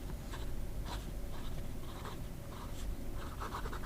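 An Omas fountain pen nib scratching across paper in short strokes, faint and close, with soft rhythmic scribbling and no talking.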